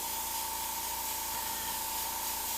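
An airbrush sprays paint onto a skull in a continuous, even hiss that holds steady throughout, close and fairly quiet, with no voices over it.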